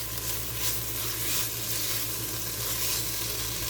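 Chilies and peppers sizzling steadily in a pot for chile relleno soup, a continuous close hiss with soft stirring scrapes and a low steady hum beneath.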